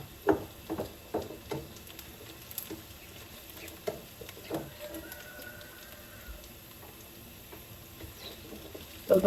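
Sardines and eggs fry in a pan with a soft, steady sizzle broken by scattered pops and light clicks of stirring, heard close and fairly quiet.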